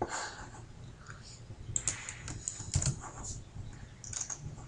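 Keys on a computer keyboard tap in uneven bursts with occasional mouse clicks, close by and fairly quiet, with no talking.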